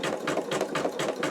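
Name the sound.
embroidery machine sewing a zigzag stitch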